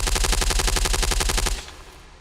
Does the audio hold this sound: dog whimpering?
no